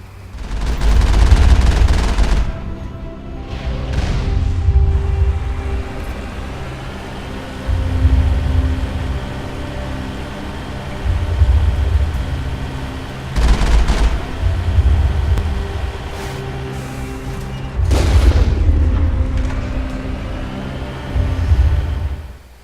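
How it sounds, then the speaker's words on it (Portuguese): The Mako vehicle's cannon fires in the video game Mass Effect, with booming shots and explosions recurring every few seconds over a steady rumbling engine bed, loud and close. "canhão do Mako ajuda pra caramba."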